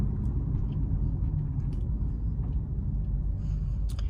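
Infiniti G37 Sport Coupe driving slowly indoors and shifting gears, a steady low engine rumble heard from inside the cabin, continuous and fairly loud with faint clicks above it.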